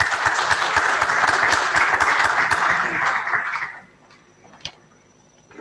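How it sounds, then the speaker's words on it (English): Conference audience at an innovation challenge applauds after a presentation, brisk clapping for several seconds that stops abruptly, leaving quiet room tone with a single knock. "A round of applause for Share My Space."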